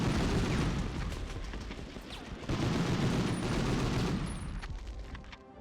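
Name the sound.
rockets firing in a PS1 video game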